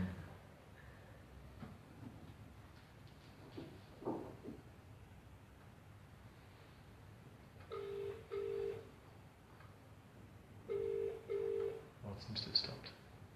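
A phone rings in a room during a spoken class, sounding in two short bursts of doubled electronic trills, fairly faint, with low talk and room noise around it.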